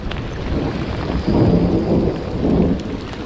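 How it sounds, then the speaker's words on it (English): Heavy rain pours down steadily in the woods at night while low thunder rumbles and surges through it, loud and close. "This rain is relentless, man."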